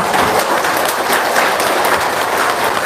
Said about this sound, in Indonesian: Tepuk tangan dong buat anak-anak yatim sini